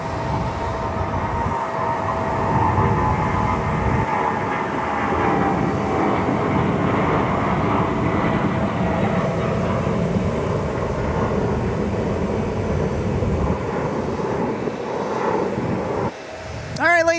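A Boeing 747 plays back as a long, loud engine roar with a broad rumbling drone that holds for many seconds, then drops away abruptly near the end.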